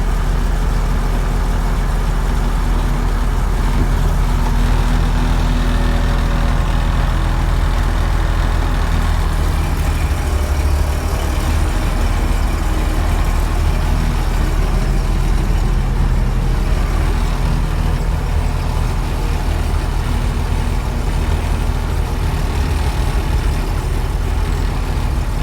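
A combine harvester's diesel engine runs continuously after being started, a loud, steady low-frequency rumble close by with no break for the whole stretch.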